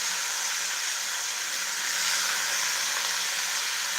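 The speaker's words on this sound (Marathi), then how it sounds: "असं उडतंय तेल चांगलं असं भाजून घ्यायचं" Cluster beans roast in hot oil in a pan, the oil sizzling and spitting in a loud, continuous hiss that stays even from start to finish with no voices.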